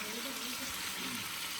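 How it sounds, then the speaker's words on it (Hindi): Chicken frying in a pan, a dense, steady sizzle with a faint low voice murmuring underneath, close and continuous. "चिकन बन रहा है गाइस, जो पूजा का है।"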